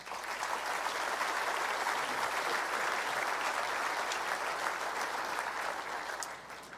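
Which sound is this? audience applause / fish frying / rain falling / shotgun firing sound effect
audience applause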